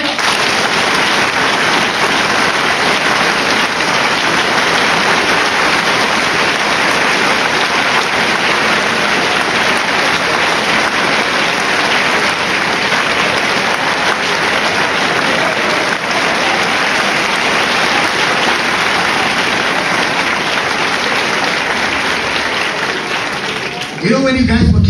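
An audience at a school sports day claps together in a loud, sustained roar of hands that holds steady for the whole stretch, with crowd voices mixed in, before cutting off at the end.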